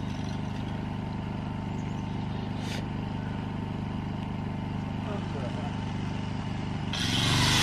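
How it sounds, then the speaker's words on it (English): An angle grinder runs during roof work on a house roof raise in Oregon, giving a loud, steady, continuous whine and roar with no pauses and a harsher surge at the end. "So he's using a grinder to do this."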